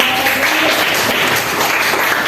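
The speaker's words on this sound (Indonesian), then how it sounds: "berikan aplaus dulu" Classroom applause for a student's answer, a steady dense wash of clapping filling the whole moment at close, loud level with no talk over it.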